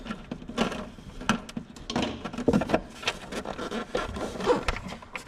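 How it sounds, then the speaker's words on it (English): Faint, close-up clicking, scraping and rattling of a wrench working loose a bolt on the rear blinker of a 2001 Yamaha V Star 1100, in quick irregular bursts without talking. "We just have a bolt, and now we just got to undo it."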